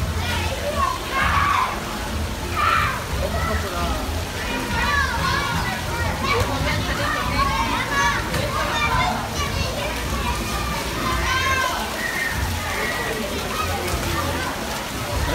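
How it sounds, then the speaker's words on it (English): A crowded cruise ship pool area aboard Royal Caribbean's Allure of the Seas on a busy sunny day, with children shouting and playing amid constant water sloshing and splashing, a dense steady wash of overlapping young voices and crowd noise. "this pool area today is packed because the weather is beautiful"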